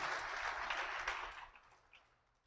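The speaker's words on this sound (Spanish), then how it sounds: "dele un fuerte aplauso al Señor" A church congregation applauding together, a steady wash of clapping at moderate volume that gradually thins and fades out over a couple of seconds.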